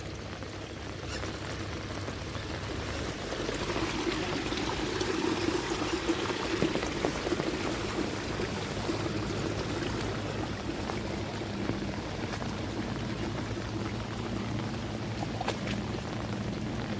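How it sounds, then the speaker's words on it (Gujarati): Flood water after heavy rain rushing along a road and into a drain, a continuous steady roar close by with no talk. "દોસ્તો તમે જોવા મળતું છે કેટલું બધું પાણી જઈ રહ્યું છે."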